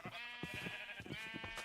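Sheep bleating in the Minecraft video game, a quiet, wavering bleat with a few low thuds around it, heard alone without talk.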